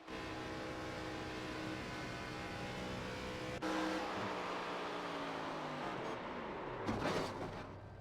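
In the game iRacing, a race car engine at Texas heard from onboard, droning at high revs with a steady whine, shifting pitch partway through and easing as it slows near the end.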